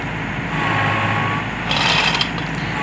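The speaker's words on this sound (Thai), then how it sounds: "ดึงไปเรื่อยๆครับขยับรถไปเรื่อยๆ" A rice harvester stuck in mud runs its engine steadily while being pulled free, a continuous close mechanical drone with slight rises in intensity partway through, no talking.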